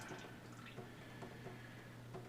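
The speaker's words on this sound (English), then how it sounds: "then you let it drip out for a couple seconds." Tie-dye liquid dripping out of a rainbow spiral-dyed shirt, a few soft close drips and trickles over a low steady hum, with no one talking.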